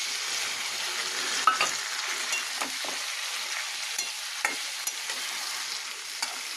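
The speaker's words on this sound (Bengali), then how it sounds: "মশলাটা দিয়ে কষাই।" A spice paste is sautéed in a pan with already-fried potato, onion and garlic for a stingray fish dish. It gives a steady close sizzle broken by occasional spatula scrapes and taps while stirring, with no talking.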